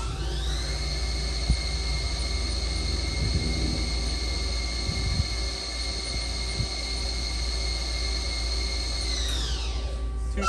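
A 2007 HAAS SL-20 CNC lathe turning center with a HAAS Servo 300 bar feeder, its spindle at 1500 RPM, gives a steady loud whine with strong tonal harmonics that holds evenly for about nine seconds, then winds down at the end.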